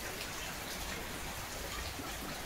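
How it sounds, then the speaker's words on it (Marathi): Heavy rain pours steadily onto a farmhouse veranda and waterlogged field, a dense, continuous hiss of drops close by with no pause or voices. "बापरे किती जोरात पाऊस यायला लागलाय."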